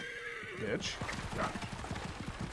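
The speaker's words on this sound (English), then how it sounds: "Where's my horse? There you are." A horse whinnies in Assassin's Creed Origins, a high rising neigh near the start, then hoof clip-clops trotting steadily, with someone talking over the game sounds.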